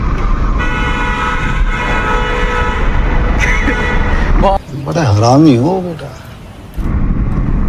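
A car horn blares in long, steady honks over engine rumble, with people talking nearby.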